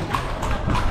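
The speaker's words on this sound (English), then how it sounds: "You got freaking horses." Horses' hooves clip-clopping in a town centre, a brief run of hollow clops over street noise, heard close and fairly loud with no clear talk.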